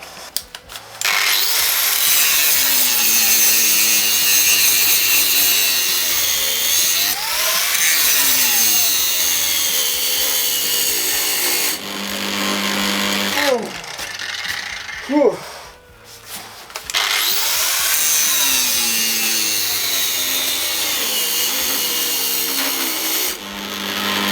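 A Milwaukee angle grinder, AGV 10-125 E or AGV 13-125 XSPDE, grinds forged metal with a grinding disc, giving a loud, sustained whine that dips briefly twice as the load shifts and then resumes strongly.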